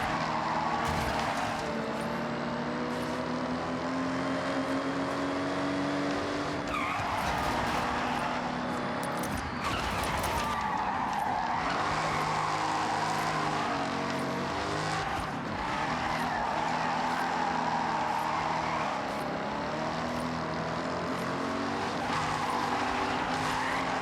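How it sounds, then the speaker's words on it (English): Cars in the racing game Forza Horizon 6 drift and skid continuously, engines roaring loud and close while tires squeal through long slides, with no talking over the sustained noise. "Guess drifting and destruction will have to do."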